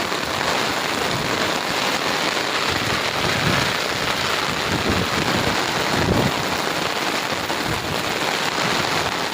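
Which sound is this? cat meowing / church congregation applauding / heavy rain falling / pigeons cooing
heavy rain falling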